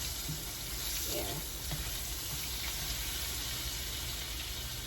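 Green tomato slices fry in a pan as they are slowly flipped, giving a steady, even sizzle that holds throughout at moderate loudness, with no voices.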